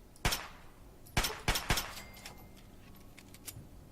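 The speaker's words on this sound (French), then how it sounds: "Les coups de feu qui ont été tirés" Gunshots in the video game Fallout 3: one sharp crack, then a quick cluster of three more, followed by fainter scattered clicks and reports.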